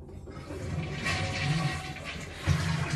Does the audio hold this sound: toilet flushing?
yes